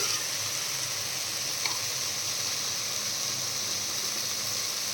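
Tomato pieces cook with turmeric in a pan for soya chunk biryani, giving a steady, soft hiss of sizzling with no break and no voices.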